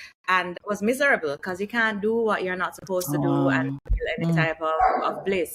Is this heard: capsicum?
no